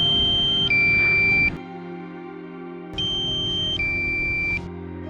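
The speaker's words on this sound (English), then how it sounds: "the warning beep from the remote control," Piercing two-tone electronic low-battery warning beeps from a drone remote control sound in two bursts separated by a short pause, over a steady mechanical whine.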